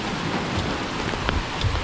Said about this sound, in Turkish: Palmiye ağaçlarındaki yapraklar geniş ya vurunca pıt pıt pıt ses yapıyor.